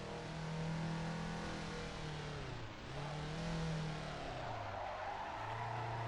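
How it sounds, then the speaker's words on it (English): Mazda RX-7 sliding sideways through a mountain road corner with handbrake, a loud sustained engine drone that dips and rises again, with tires squealing and scrubbing through the drift. "Give it some handbrake around the apex."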